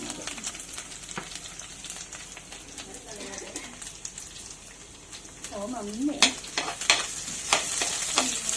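Chopped garlic and ginger frying in hot oil give a soft, continuous sizzle with light stirring, while a bird coos faintly in the background and grows a little louder near the end.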